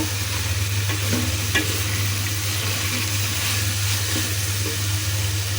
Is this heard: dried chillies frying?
yes